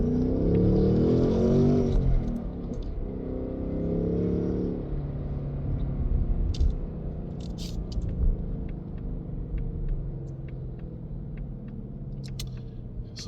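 A 2026 Ford Mustang GT with a 6-speed manual is driven. Its V8 rumbles loudly at first, then settles into a steadier, quieter drone with road noise, heard from inside the cabin.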